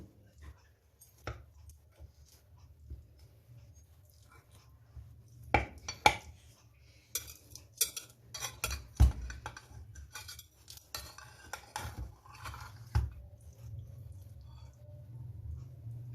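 A baked potato chicken pizza is cut into after coming out of the oven, with scattered clinks and scrapes of a utensil against the dish in a series of irregular bursts, fairly quiet throughout.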